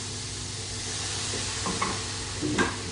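Pork stir-frying with chayote shoots in a pan with a little oil and a splash of water: a steady, close sizzle with scraping stir strokes and a few louder clatters near the end, no talking.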